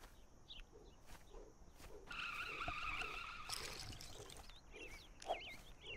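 A car in a LEGO Incredibles video game drives with a quiet engine hum, then a tire skid squeals for about a second midway, followed by chirpy game sounds, all faint.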